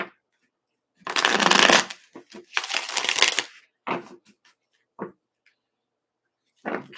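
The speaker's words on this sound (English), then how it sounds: "Okay, last shuffle." Tarot cards riffle-shuffled up close in two long bursts, with a few shorter taps and snaps of the deck between them and quiet gaps.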